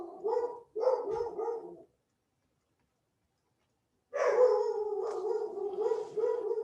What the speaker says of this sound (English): Barking dog, be right back.